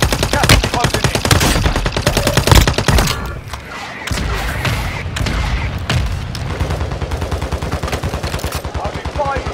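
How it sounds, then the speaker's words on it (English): Gunfire and a mortar strike in the Warzone Mobile battle royale video game, with loud, continuous rapid automatic fire, heavy booming impacts midway, then more steady bursts of shots to the end. "Friendly mortar strike inbound."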